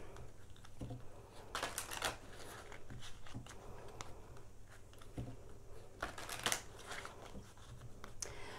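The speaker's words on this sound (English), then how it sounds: "We'll shuffle it again in case we have," A tarot card deck is shuffled by hand in a quiet room, giving soft papery riffles in two brief bursts among faint rustling and handling noises.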